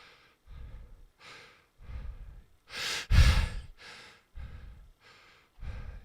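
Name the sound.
diaphragmatic breathing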